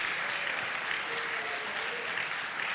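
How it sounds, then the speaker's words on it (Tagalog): A church congregation at a Sunday service claps together in sustained, even applause, a close and continuous patter with a faint sung or spoken tone underneath. "Come on, palakpak sa ating Panginoon."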